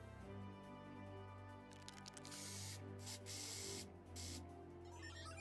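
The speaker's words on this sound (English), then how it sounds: "Is it really a good idea to spray paint that before we infiltrate it?" Spray paint hisses from a can in Final Fantasy XIV, in several steady bursts of airy spraying with short pauses between, loud and up close over a game music bed, with no voices.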